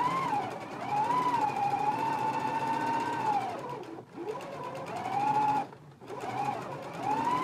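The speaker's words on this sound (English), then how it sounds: "I'm going to take this to my machine and go ahead and stitch my hem in place" A sewing machine stitches a garment hem in steady continuous bursts, running at an even hum with two brief pauses before restarting, close and loud with no voices.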